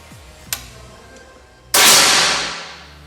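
A single air rifle shot fired with a slug pellet: a sharp crack near 1.7 seconds with a ringing decay, after a smaller click earlier, close and fairly loud against a quiet background.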